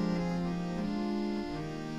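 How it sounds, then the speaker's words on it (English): Theatre pipe organ playing diapason, string and flute stops together, a sustained rich chord with slowly shifting notes, steady and alone without talk. "So if I put my diapason on and my strings and my flute,"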